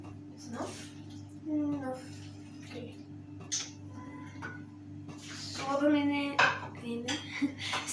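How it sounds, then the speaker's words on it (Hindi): Cooked chicken macaroni being dished out of a pan, with scattered clinks and scrapes of a spoon against the metal, a dog whimpering and yipping, and people talking throughout. "यस अब हम इसे डिश आउट कर रहे हैं"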